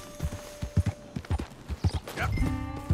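Steady clip-clop of horse hooves on a hard surface in Red Dead Redemption 2, a brisk rhythmic gait, followed by a short horse whinny near the end.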